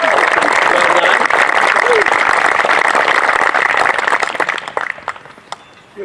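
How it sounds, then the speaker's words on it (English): Audience applause for an elementary school choir at a memorial service, a loud, dense burst of clapping from a large crowd that holds steady and then thins out to a few last claps. "Let's give them a big round of applause."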